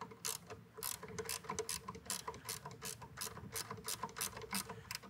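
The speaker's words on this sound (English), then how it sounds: "For this, you'll need a half inch wrench." Ratcheting half-inch wrench loosening bolts on the can guide rail of a beverage can seamer, a quick steady series of sharp mechanical clicks repeating close up with no talking.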